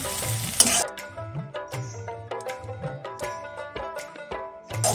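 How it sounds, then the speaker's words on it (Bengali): Onion with garlic paste fries in a pan, giving a soft steady sizzle broken by repeated scraping and tapping of a spatula as it is stirred. "পেঁয়াজটা ভাজা হয়ে গেছে"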